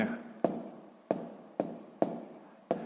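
A math exercise written out by hand with pen or chalk, five crisp scratching strokes at a steady pace, each a short sharp attack that fades, close and fairly quiet, with no voice over them.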